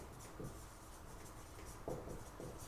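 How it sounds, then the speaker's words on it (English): Pen scratching across paper while an equation is written out, a few soft, brief strokes, quiet and close with no talking. "This equation here, in fact, I'm going to write it down."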